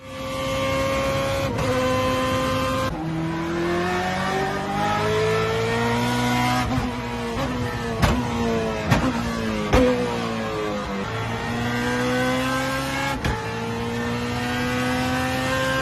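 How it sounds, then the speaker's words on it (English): Onboard sound of a BMW E46 M3 GTR race car with its P60 B40 engine: a loud, continuous engine note that rises through the revs, drops sharply at each upshift and climbs again, heard alone for about sixteen seconds. "let's start off this episode right with some E46 M3 GTR race car action"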